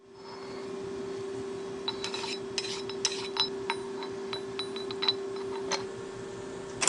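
Deburring a machined steel table index key for a dividing head and foot stock: a scattered run of light metallic scrapes, ticks and clinks from a file working the edges, close by, over a steady background hum.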